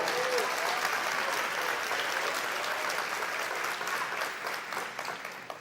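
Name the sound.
applause at a church service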